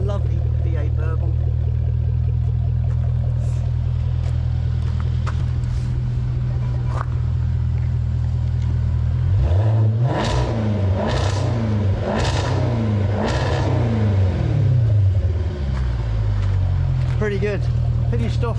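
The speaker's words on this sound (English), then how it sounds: "So this is valves open. Lovely V8 burble." A Jaguar F-Type P450 V8 fitted with a stainless Quicksilver sport exhaust, valves open, gives a deep loud burble that rises into repeated revs, with someone talking over it.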